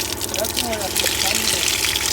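Cold water flows from a natural mountain spring beside a large college ground, a steady rushing wash under nearby talking.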